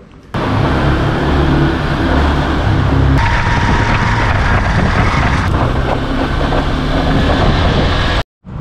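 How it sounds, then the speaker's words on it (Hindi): An old motorcycle engine runs steadily up close, a rough continuous rumble with a shift in tone midway, cutting off abruptly near the end. "जब मैं बाइक चलाऊँगा तो इसकी आवाज़ सुनना बस तुम."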